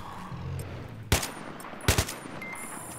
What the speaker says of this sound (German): Aua, Schüsse!